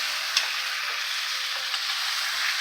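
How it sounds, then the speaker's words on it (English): A bone-in NY striploin steak fries in plenty of butter in a pan, giving a loud, continuous close sizzle with a few soft stirring knocks. "A bunch of butter. Yeah, a lot of butter."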